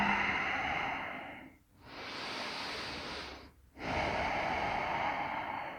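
Slow, deep breathing during a yoga pose: two long airy breath sounds separated by brief pauses, close and steady, with no talking.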